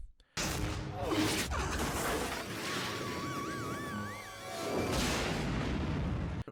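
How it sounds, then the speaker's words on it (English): Stormtrooper blaster fire during the Star Wars battle on Endor: loud bursts of laser shots and whooshes with sweeping, warbling electronic tones over a dense, rumbling battle mix that runs throughout. "This stormtrooper, the last surviving member of his unit, is left with no choice but to engage in suppressive fire as he passes Luke"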